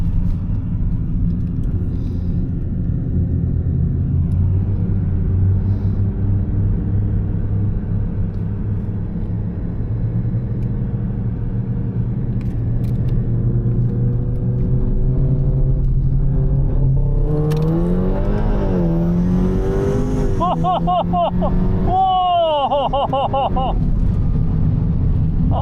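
The Beast35 GTR race car's engine drones steadily and loud, then surges and climbs sharply in pitch as it accelerates hard, with rev changes sweeping up near the end.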